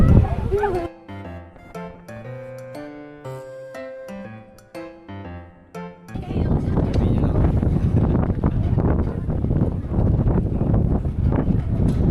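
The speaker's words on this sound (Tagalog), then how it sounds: "sobrang hangin dito sa taas" Strong wind roars and buffets the microphone on a mountain top above a sea of clouds in Ilocos Sur, a dense steady rush that follows a stretch of melodic tones.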